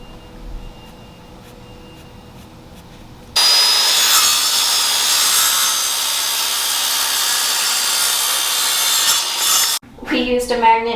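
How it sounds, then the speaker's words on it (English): A power saw cutting 1x4 and 1x3 wooden boards, starting abruptly after a quiet stretch and running as a loud, steady, high whine for about six seconds before stopping, followed by brief rattling handling noise. "We're going to measure them out and then get them sawed."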